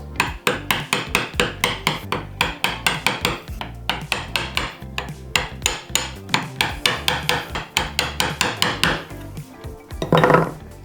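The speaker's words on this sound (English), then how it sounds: "Okay, and then chisel into the line." Rapid, steady series of sharp mallet blows drive a chisel into wood while cutting a cross halving joint, dozens of close, loud knocks in even rhythm, ending in a brief scraping flurry.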